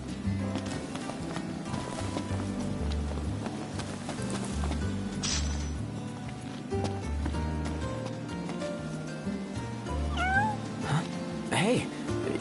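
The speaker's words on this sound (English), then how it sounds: "Hey, you're the cat we saw in Galden." A cat in the video game Final Fantasy XV meows a few times over a steady game soundtrack, with hoof-like clopping and other game sounds mixed in.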